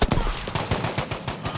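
Rapid machine gun fire from a Battlefield V match sounds as a dense string of loud, close bursts with no pauses across the whole stretch.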